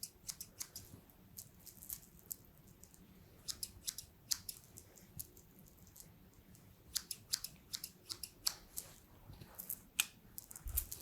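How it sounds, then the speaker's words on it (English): Quiet, close scissors snipping repeatedly in an irregular rhythm, crisp little clicks over a soft background hush. "Again, I got those scissors."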